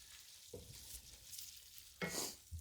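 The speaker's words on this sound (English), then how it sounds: "when you have tomato paste into hot grease, you really wanna make sure you're stirring it" Tomato paste is stirred in hot grease in a pan, giving a quiet, steady sizzle broken by a couple of brief scraping stirs of a utensil against the pan.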